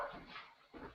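A small dog whimpers and barks faintly indoors in two short bursts separated by a brief pause.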